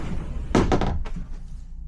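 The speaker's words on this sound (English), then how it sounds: "When I have both doors shut," Solid wooden doors inside a 2020 Grand Design Transcend travel trailer shut with a couple of close, dull thumps, followed by a lighter knock, over a low steady hum from an air conditioner.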